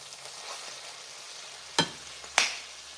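Onions are dropped into a hot pan and fry, a soft steady sizzle punctuated by two sharp crackling pops, close and without talking.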